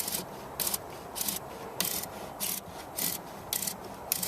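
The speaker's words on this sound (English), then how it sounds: "there's a definite grind there" A tight interference-fit part being turned gives a dry, rasping grind in short, regular strokes, about two per second, close and fairly quiet, with no talking.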